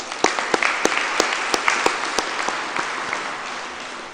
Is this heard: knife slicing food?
no